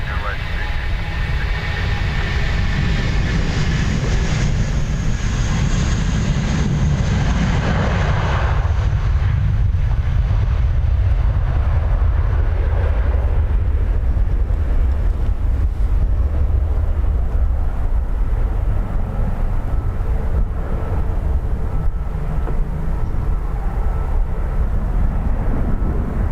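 Airliner engines rumble loud and steady on the runway at Dublin Airport, a continuous heavy roar with wind buffeting the microphone, while a voice is heard over it at times.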